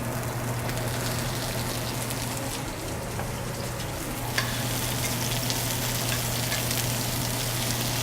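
Onions and vegetables frying in hot oil in a pan, a steady close crackling sizzle with scattered pops and a low kitchen hum beneath, no talking.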